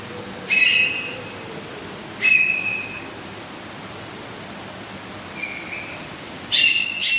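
Birds in a zoo aviary give several sharp, whistling calls, three clear bursts and one fainter one spaced apart, over a quiet background hiss.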